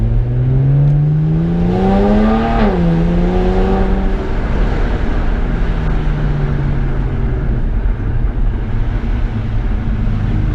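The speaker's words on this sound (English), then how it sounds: "Those are all just light throttle. I mean, I'm hardly getting into this gas pedal." A BMW engine with a TD04 16T turbo climbs in pitch under gentle throttle, shifts, then settles into a steady droning hum with road noise inside the cabin.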